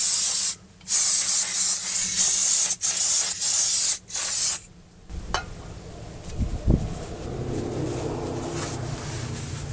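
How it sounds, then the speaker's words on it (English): Several sharp bursts of hissing from an aerosol can of brake cleaner sprayed onto rear brake parts of a 2004 Chevy Silverado, separated by brief pauses, then the spraying stops and quieter knocks and handling noises follow. "I'm going to spray it down with a little bit of brake cleaner"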